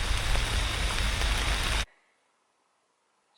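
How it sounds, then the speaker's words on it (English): Steady, loud rain falls and splashes on surfaces during a rainy spell in Madeira, Portugal, hissing evenly for nearly two seconds before cutting off abruptly into near silence. "It's raining again,"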